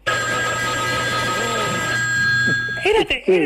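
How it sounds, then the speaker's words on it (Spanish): An old telephone bell rings continuously with a bright metallic trill, loud and steady, then stops as voices begin talking. "escuchabas 4 casas al lado de la tuya que estaba sonando el teléfono"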